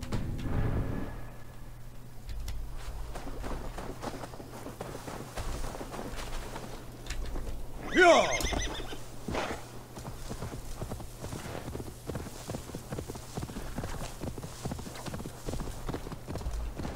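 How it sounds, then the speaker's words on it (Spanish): Horse hoofbeats while riding in Assassin's Creed Valhalla, a steady rhythmic clip-clop of trotting that continues throughout, with a brief louder burst midway. "Pues vamos a ir a caballo."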